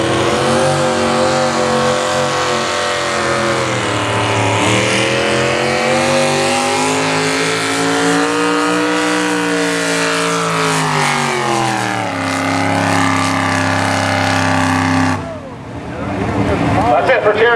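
A race truck engine roars down a pull track at a truck and tractor pulling event in Rock Valley, Iowa, a loud sustained bellow that climbs and dips in pitch, with an announcer talking over it before it fades.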